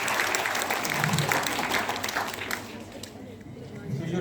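An audience applauds a speaker at a school debate, a dense burst of clapping that fills the room and then gradually thins out and softens toward the end.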